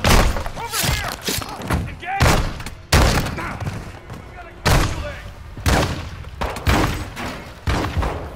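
Bursts of gunfire in the video game Call of Duty: Modern Warfare II, a string of sharp loud shots and heavy thuds repeating in irregular clusters over several seconds, with voices talking underneath.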